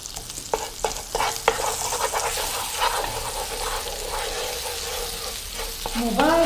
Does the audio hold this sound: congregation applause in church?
no